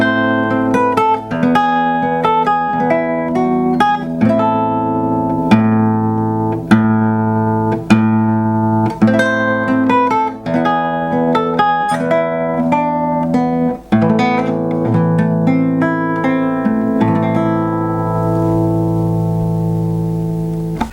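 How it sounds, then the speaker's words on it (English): An Ortega Jewel Jade nylon-string classical guitar with an ebony fretboard, played through its built-in Fishman pickup. Plucked arpeggios and melodic notes ring out clearly and closely, ending on a sustained, decaying chord. "This one is made by a manufacturer called Ortega."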